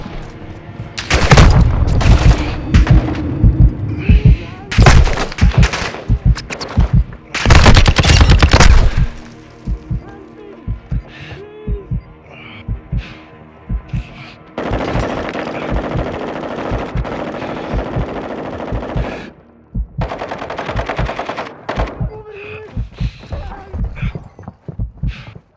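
Heavy automatic gunfire and explosions in a Call of Duty hostage mission, repeated loud rattling bursts and sustained volleys with short gaps, close and intense.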